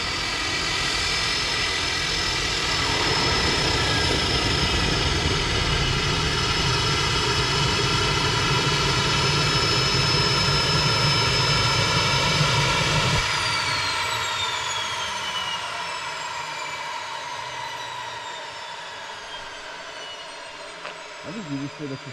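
A small aircraft engine drones loud and steady up close, with a dense tonal roar and whine that holds for most of the stretch before the engine cuts and the sound falls away into a quieter wind-down.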